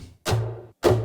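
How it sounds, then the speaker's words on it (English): A hammer strikes wood twice, each a sharp, solid knock that rings out briefly before fading, the second blow hitting a bit harder. "hitting the wood, this is a hammer."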